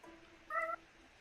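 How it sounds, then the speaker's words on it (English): A single short cat meow, clear and moderately loud over a quiet room background, with no talk during it. "Oh, that cat."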